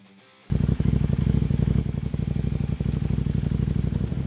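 A Kove 800X Rally adventure motorcycle engine bursts into a loud, steady, throbbing run after a brief quiet start, holding a rough, pulsing beat close by with no voices.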